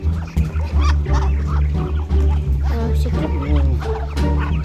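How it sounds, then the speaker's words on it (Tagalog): A flock of many ducks in a rural provincial yard quack and honk loudly and close by, in overlapping bursts, with a dog-like bark mixed in and a voice briefly underneath. "Napakarami ng pato."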